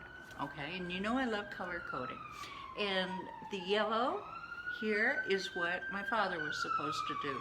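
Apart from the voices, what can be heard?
police sirens passing outside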